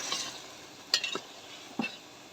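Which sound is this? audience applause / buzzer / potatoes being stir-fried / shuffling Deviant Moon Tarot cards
potatoes being stir-fried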